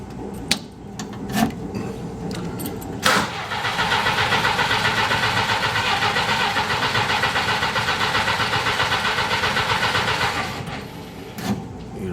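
A Willys Jeep engine cranking but not catching: a few clicks and clunks, then about seven seconds of steady, rhythmic starter grinding, close and loud, before stopping with faint knocks after.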